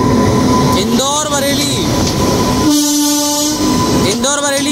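An Indian weekly express train hauled by a WAG 9 electric locomotive passing at a station, loud and close, with horn blasts and continuous rolling rail noise throughout.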